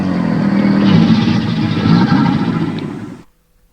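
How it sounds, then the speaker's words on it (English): An American alligator bellow, a loud, continuous low rumbling roar with gritty texture, sustained for about three seconds before cutting off abruptly into silence. "This was a bellow by an American alligator."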